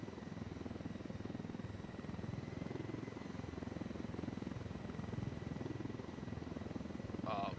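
A helicopter in the Ghost Recon: Wildlands game gives off a steady, close rotor thump and engine drone. The sound holds throughout with little change.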